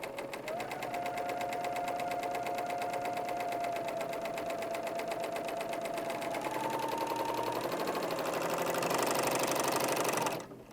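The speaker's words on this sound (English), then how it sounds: "So I'll begin stitching and I'll stitch all the way around." A serger runs continuously, stitching and trimming the fabric edge of a round Christmas tree napkin, a steady loud rapid mechanical chatter that speeds up slightly near the end before stopping abruptly.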